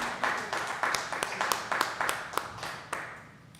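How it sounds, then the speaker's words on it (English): A small audience at a city council meeting in Socorro gives scattered, sparse applause: a dozen or so distinct claps near the microphone, fading out unevenly. "Can we get an applause for Miss Margarita?"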